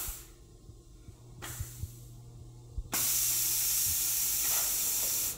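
A semi-automatic press comes down onto a mold with short bursts of pneumatic hiss, then a loud sustained release of air that holds steady before cutting off.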